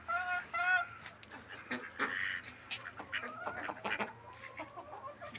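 Chickens and young roosters in a farmyard, a scatter of faint clucks, squawks and short crowing attempts in quick irregular bursts, fairly distant and low in level.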